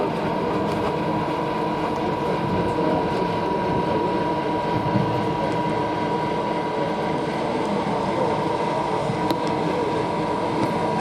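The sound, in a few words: Bücker Jungmann biplane landing at Duxford air show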